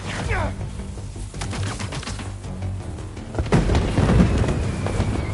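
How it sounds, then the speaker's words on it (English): Fireworks explode in the video game Spider-Man 2, a run of sharp bangs and crackling bursts, some loud and close, over a rumbling game background. "Fireworks! They're lit!"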